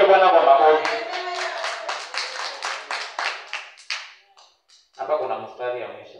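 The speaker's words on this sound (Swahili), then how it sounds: "Hebu tushangilie Bwana kwa makofi." A church congregation bursts into rhythmic handclapping, the claps loud and steady over a sung or spoken voice, then fading into scattered claps before speech returns.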